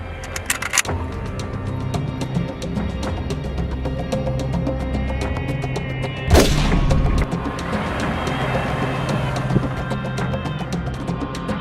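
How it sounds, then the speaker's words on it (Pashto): A rifle shot in an outdoor drama scene cracks once as a loud, sharp burst midway through, standing out over a steady background rumble and scattered noises. "د ټوپک ډز دې مو واورېده"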